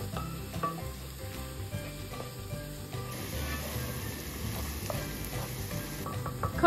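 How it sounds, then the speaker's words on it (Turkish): Red bell peppers sautéing in a pan with onions, a soft steady sizzle with light stirring scrapes and faint clinks, quiet and continuous with no voices. "Onu da biraz kavuruyoruz."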